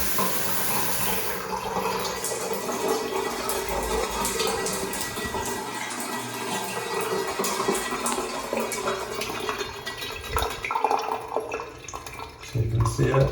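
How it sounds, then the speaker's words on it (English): Shower water runs steadily into a Schluter linear drain in a newly tiled shower, a continuous close splashing and gurgling flow. Someone talks over it throughout. "it's just continuing to flow and drain in there very nicely, smooth"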